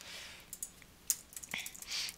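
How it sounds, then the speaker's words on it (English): Computer keyboard and mouse clicks picked up by a new microphone during a game-mod session, a scatter of light, sharp clicks and taps at irregular intervals, close and fairly quiet. "I do apologize for the keyboard clicks"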